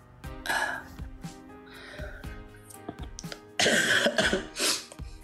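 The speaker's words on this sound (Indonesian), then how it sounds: "Maaf ya kalau saya batuk-batuk" Several harsh coughs come in bursts, with a throat clearing and quieter breaths between them, close and fairly loud.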